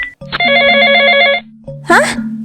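A telephone rings loudly and close in an indoor comedy scene, with bursts of electronic bell tones over a low hum, followed by a brief sliding tone.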